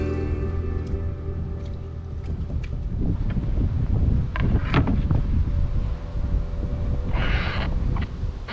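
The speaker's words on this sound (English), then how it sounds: "I'm moving with the wind." Gusting wind buffets the microphone while canoeing on a lake in Noganosh Lake Provincial Park, with low rumbling blasts, some water and paddle knocks, and a brief hiss near the end.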